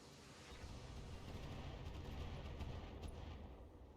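Heavy mech weaponry in the video game Battletech fires on several enemy mechs, a dense continuous barrage of booms and rattling impacts filling the whole stretch at steady loudness, with no talk.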